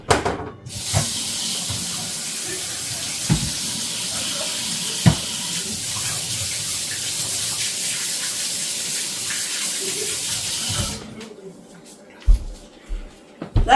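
Running tap water splashes steadily over hands at a kitchen sink for about ten seconds, a broadband rush with a few soft knocks, then the flow stops and brief clunks follow.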